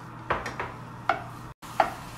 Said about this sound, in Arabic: بحمس اللحمة الحين مع بصل وفلفل بارد وكمان ثوم وبهارات